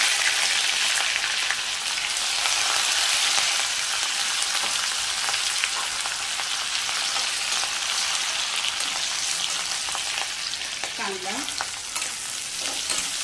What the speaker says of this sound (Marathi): कांदा आपल्याला खूप जास्त ब्राऊन नाही करायचा, तर हलकासा मऊ होईपर्यंत परतून घ्यायचा आहे तेलामध्ये।